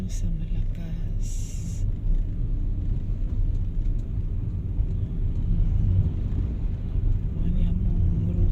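Continuous low rumble of road traffic on a busy street with school-hour congestion, cars moving steadily nearby at moderate level, a few faint higher noises at the start.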